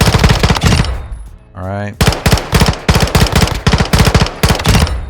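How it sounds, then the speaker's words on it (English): A PDSW submachine gun fires at a firing range in Call of Duty DMZ: a loud burst at the start, a short spoken remark, then several rapid, rhythmic automatic bursts that carry on to the end. "let's get into the firing range with the PDSW"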